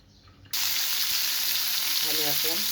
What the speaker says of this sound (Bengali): জোরে জাল দিয়ে মোটামুটি মিডিয়াম জাল দিয়ে ভেজে নেব ভালো করে